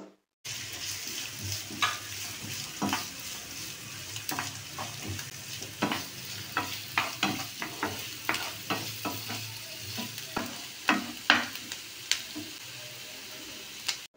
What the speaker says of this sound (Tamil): அதே பேனில் நறுக்கின 3 பெரிய வெங்காயம் சேர்த்து வெங்காயம் கண்ணாடி பதத்துக்கு வதக்கிக்கலாம்